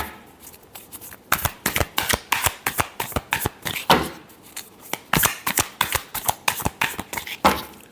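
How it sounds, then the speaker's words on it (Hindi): Tarot cards are shuffled by hand in quick repeated bursts of crisp riffling and slapping, close and fairly loud, with no talking. "Last shuffle."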